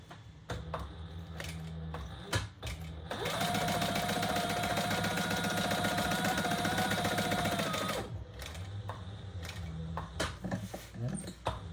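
A sewing machine stitches a zipper pocket on a wallet, running steadily in one fast whirring burst of about five seconds, with quieter handling clicks and rustles before and after.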